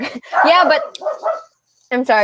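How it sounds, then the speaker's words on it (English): A pet dog in a home barks loudly close by, a few sharp yips mixed in and around a person's apologetic speech. "oh, sorry, that was my dog."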